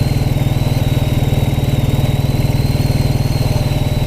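A 1929 Ariel motorcycle engine runs close and loud, its rapid, even exhaust pulses thumping steadily without a break.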